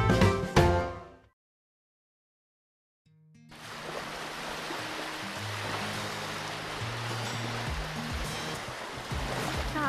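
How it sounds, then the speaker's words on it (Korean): Ocean waves breaking at Gudumi port, a small harbour near Seogwipo on Jeju Island, a continuous loud surf wash and rumble that rises after a brief silence and carries on steadily, following a short tonal sound at the start. "철썩철썩 파도 소리 들리시나요?"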